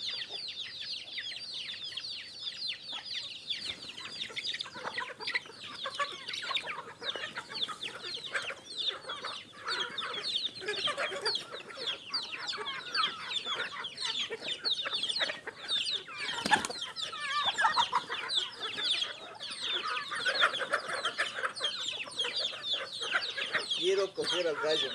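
Chickens and a rooster on a farm raising giant criollo hens cluck and squawk continuously, with many overlapping calls close by and people talking in the background.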